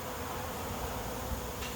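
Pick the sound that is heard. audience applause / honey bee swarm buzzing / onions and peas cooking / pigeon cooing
honey bee swarm buzzing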